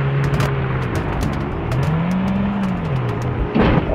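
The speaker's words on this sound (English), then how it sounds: "This car is so bad. I can barely control it." A video game car's engine revs hard while driving, its pitch climbing and dropping with throttle changes, loud and continuous, with a brief burst of noise near the end.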